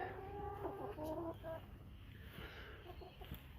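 Chickens cluck in a backyard chicken run during a Melbourne winter garden tour, several short close clucks and calls over a steady outdoor background, fairly faint.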